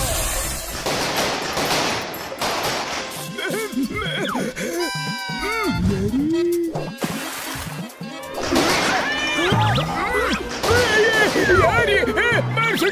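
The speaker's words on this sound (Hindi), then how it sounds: "यहाँ सामने आतिशबाजी हो रही है।" Firecrackers and fireworks burst in rapid, crackling volleys with loud sharp pops, joined by whistling, warbling tones, all in a busy, dense mix throughout.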